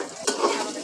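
Potatoes frying in a pan with a little salt give a brief burst of sizzle, with a quick stirring scrape near the start and a steady hiss after it.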